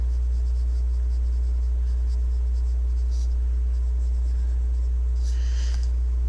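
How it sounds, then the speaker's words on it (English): Shading a drawing on paper, including along fold lines: a soft, steady scratching of strokes under a strong low electrical hum, with a brighter burst of rubbing near the end. "Kind of shading that in and putting definition"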